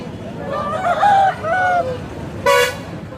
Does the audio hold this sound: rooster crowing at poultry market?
yes